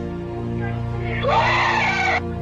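Inside a church, a man lets out a shocked scream lasting about a second, loud and strained over a steady droning tonal background.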